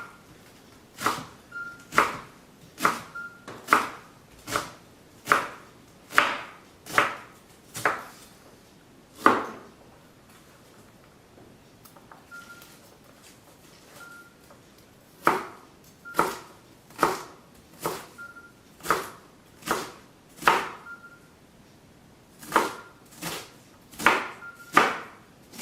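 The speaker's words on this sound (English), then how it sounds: "Okay, we've chopped the cabbage up." A knife chops cabbage on a cutting board in sharp, evenly spaced thuds, bursts of steady strokes separated by short pauses, close and clear with no talking.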